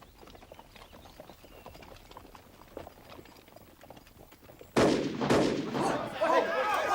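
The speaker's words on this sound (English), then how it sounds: "Hold your fire! Stop firing!" Gunfire in a battle scene: a quiet, rustling background suddenly gives way to loud, close bursts of shots that keep cracking through the last couple of seconds.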